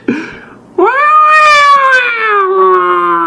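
A voice imitates a fighting cat: a short yowl, then a long, loud, drawn-out caterwauling wail that slowly sags in pitch.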